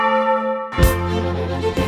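A Russian bell from Crimea, one of four in the belfry of the Saint-Esprit church, rings with a loud metallic strike after a sustained humming tone, its rich ringing overtones carrying on and struck again near the end.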